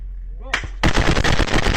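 Automatic gunfire from war footage in Ukraine: a loud, rapid run of close, sharp shots that breaks into a dense, continuous rattle lasting over a second.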